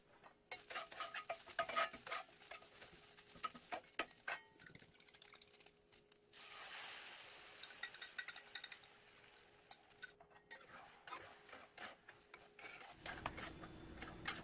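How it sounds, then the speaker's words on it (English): Kale sautéed and stirred in a cast iron pan on a stovetop, soft scraping and rubbing strokes with a faint sizzle, intermittent and close, with a brief quiet gap near the end and no talking. "I'm gonna add some kale and get that all"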